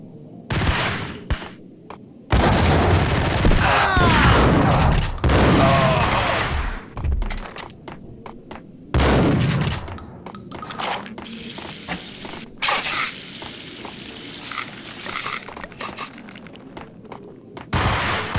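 Gunfire in the video game Max Payne, played on PS4, comes as loud bursts of rapid mechanical shots in clusters, breaking off into quieter stretches of scattered clicks and clatter.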